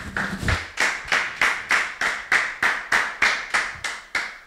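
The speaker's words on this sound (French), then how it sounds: "Acclamez pour la parole de Dieu" A congregation at a church service applauding, a group clapping in a steady, slow, unison rhythm of about a dozen evenly spaced claps, fairly close and without voices.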